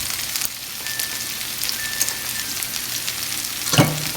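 A small amount of oil heating in a cooking pot for corn salsa, giving a steady close hiss and sizzle. A brief clink of a utensil lands near the end.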